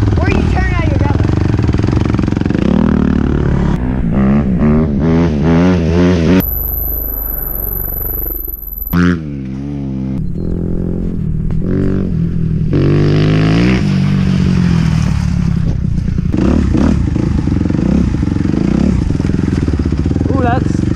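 Dirt bikes ride through wet ground and puddles in the rain, with loud, close engine revs that rise and fall in repeated bursts, splashy noise and people talking over it.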